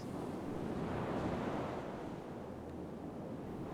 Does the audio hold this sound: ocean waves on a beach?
yes